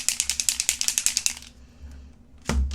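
A spray foundation bottle is shaken hard, its mixing ball rattling in a quick, even burst of about a dozen clicks up close, then quiet and a soft thump at the end.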